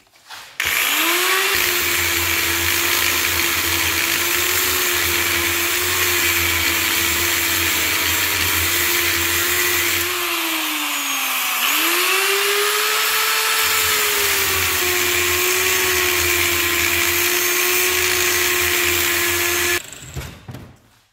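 A loud, continuous power saw grinds through a metal motorcycle fuel tank held in a vise, its pitch dipping briefly midway before it resumes and then stops.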